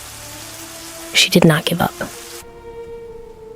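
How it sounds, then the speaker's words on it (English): Heavy rain in an animated children's bedtime story: a steady, even hiss of downpour runs beneath someone narrating, then cuts off abruptly partway through. "Rain poured heavily."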